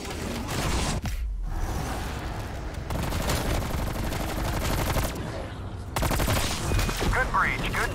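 Dense automatic gunfire from Call of Duty Cold War, rapid bursts and volleys layered over a thick battle din, with voices speaking in the mix near the end.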